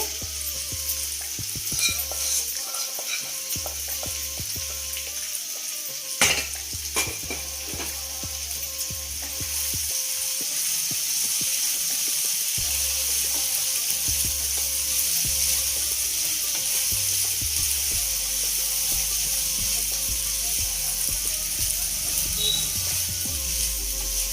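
Egg fries in a pan for chicken 65 fried rice, a continuous loud sizzle with scraping and clicking from stirring, punctuated by occasional metallic knocks.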